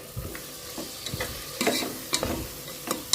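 Chopped small tomatoes, two of them, sautéing and being stirred in a pan for chicken macaroni biryani, with soft sizzling and a few scraping stirs rising in bursts, close and fairly quiet, no talk.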